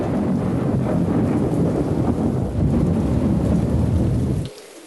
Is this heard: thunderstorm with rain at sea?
yes